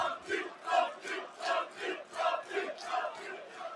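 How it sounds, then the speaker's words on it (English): Darts crowd at a professional match breaking into rhythmic chanting cheers, about eight loud pulsing shouts in a steady beat, many voices together filling a large arena. "Well, they do get to cheer something."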